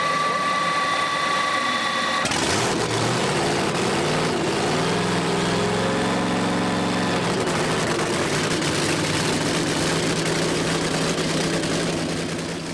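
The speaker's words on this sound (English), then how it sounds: "The cars fire up on methanol, then switch over to nitro just before the run." Funny Car drag racing engine at Santa Pod Raceway firing up on methanol: a steady tone gives way to a sudden loud mechanical roar that settles into a rough, rumbling idle, close and continuous.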